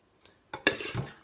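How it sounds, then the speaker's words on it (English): Beef goulash served from a slow cooker: a faint tap, then a ladle or spoon clinks against the pot, followed by a short wet scrape and slop of thick stew, close and quiet. "So we get that out of the slow cooker."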